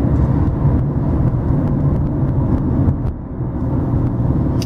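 A car engine pulling steadily after a shift into third gear, a low continuous rumble from inside the cabin with a slight dip and recovery partway through, no talking.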